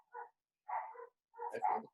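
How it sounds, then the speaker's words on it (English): A couple of agitated dogs bark three times at spaced intervals, sharp mid-pitched yaps with the last one longer and rougher, heard at moderate distance with no talking. "I've got a couple of dogs that are riled up right now."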